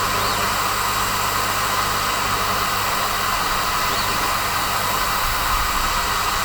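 A Sainsmart 4040 Pro CNC with a 10 W laser diode and 4th axis runs offline from its controller, giving a loud, steady whirring drone that stays constant throughout.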